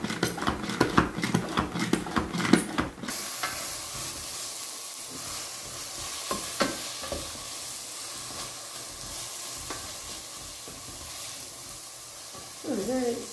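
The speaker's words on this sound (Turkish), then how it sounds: "Böyle karıştırmaya devam edelim." A mixture cooks in a pan and is stirred, with scraping strokes up front giving way to a steady sizzling hiss. Brief clinks follow, and a voice comes in faintly near the end.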